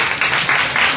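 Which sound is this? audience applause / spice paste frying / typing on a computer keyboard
audience applause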